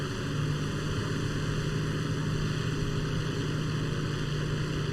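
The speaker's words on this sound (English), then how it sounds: "The Tempest is a very loud plane on headset" In the War Thunder game, the piston engine of a Tempest fighter plane roars steadily in a loud, constant drone with no break or change across the whole stretch.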